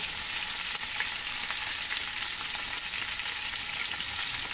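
Chicken fries in a pan with garlic, whole red chilies and tomato for a Kashmiri murg, giving a steady, loud sizzle that holds without a break and with no talk.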